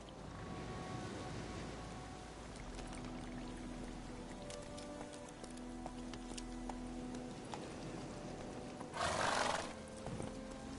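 Roach, the horse in The Witcher 3: Wild Hunt, gallops with steady hoof clops under game ambience, with a brief louder burst of noise near the end.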